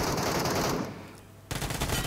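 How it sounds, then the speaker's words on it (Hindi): MK rifle fire in the PUBG video game: loud, rapid continuous shots that thin out briefly into a lull, then resume at full intensity. "MK में इसने शायद 17-18 गोलियां वैसी चला दी"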